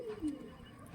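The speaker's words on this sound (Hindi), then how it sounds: "बहुत तगड़ा कबूतर है ये" A big, strong pigeon gives a soft, brief coo that dips in pitch, faint and close, against quiet background with no talk.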